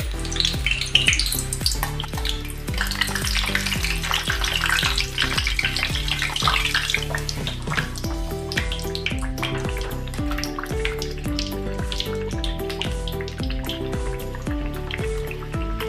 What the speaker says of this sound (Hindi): अभी इसको हम तलेंगे। अभी मैंने गरम करने के लिए तेल रखा है।